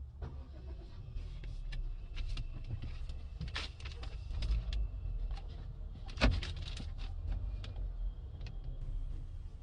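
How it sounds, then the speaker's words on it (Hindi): A Honda Amaze VX petrol car starts with a brief crank, then settles into a quiet, steady idle with a low hum, broken by a few clicks and knocks from inside the cabin. "आइए गाड़ी को स्टार्ट करके देखते हैं"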